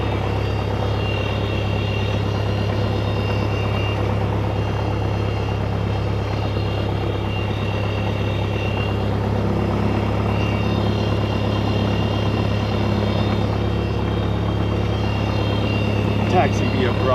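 A Cessna light aircraft sits idling on the south ramp before taxi, its engine a steady, droning hum heard from inside, with talk over it.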